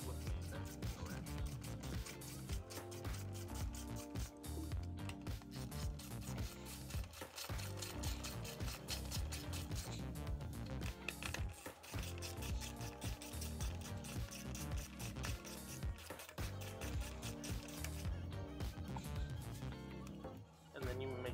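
A socket wrench ratchet with a 10mm socket and extension turns bolts on a 2014 Honda Accord engine cover during spark plug work, giving continuous mechanical clicking and rubbing under someone talking.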